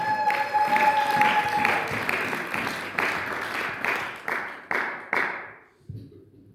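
A church congregation claps and applauds loudly and steadily, the sound thinning into scattered rhythmic claps before trailing off into quiet.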